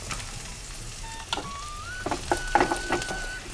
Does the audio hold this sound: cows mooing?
no